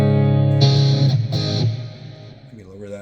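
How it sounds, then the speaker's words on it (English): An electric guitar run through a TONEX plug-in distortion effect sustains a thick, buzzy chord, then a couple of brighter strummed hits ring out and decay, close and loud. "I can run my own distortion out of this right here."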